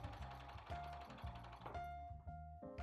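A sewing machine stitches a garment neckline seam in a steady, rapid mechanical chatter up close, with a brief change in pace partway through before the needle run continues.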